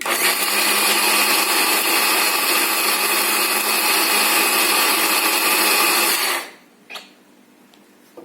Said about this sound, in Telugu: వాటర్ కలిపి మళ్ళీ మిక్సీ వేయండి